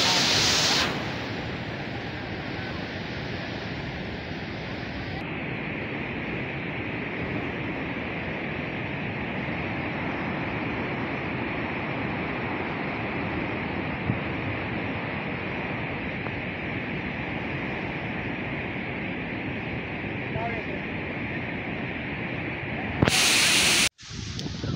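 Bhivtas waterfall roars as a continuous, loud broadband rush of falling water, steady and close for the whole stretch with no voices.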